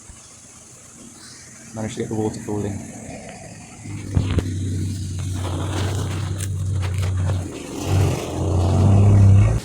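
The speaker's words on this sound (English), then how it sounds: "Oh, there is a car coming." A vehicle approaches and rumbles past on a rough mountain road near a waterfall in rural Bolivia, engine growl building and swelling toward the end, with a person talking over it and rushing water in the background.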